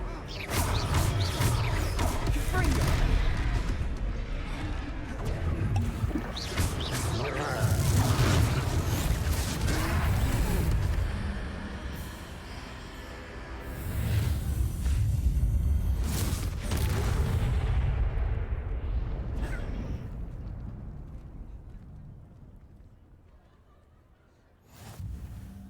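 Fiery spell blasts in the fantasy video game Hogwarts Legacy, with booming explosions, crashes and whooshes rolling through a busy battle, and bursts of game voices in between.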